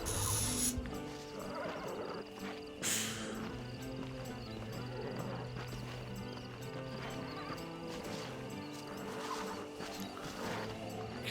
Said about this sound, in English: I hear a horse.